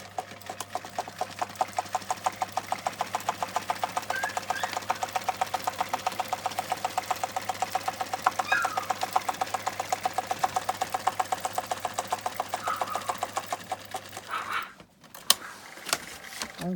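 A sewing machine runs continuously, stitching along the fold of a small gusseted fabric pouch with a rapid steady needle clatter close up, stopping abruptly near the end.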